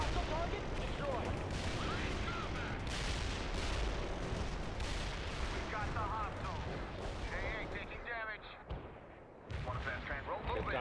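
Dense battlefield din from the World in Conflict strategy game, with continuous gunfire and artillery blasts rumbling loud and close for almost the whole stretch, briefly thinning before the barrage resumes, while radio voice callouts cut in over the fighting.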